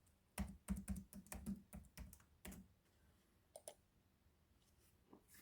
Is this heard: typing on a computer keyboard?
yes